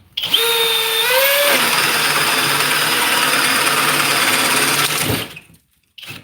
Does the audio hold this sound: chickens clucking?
no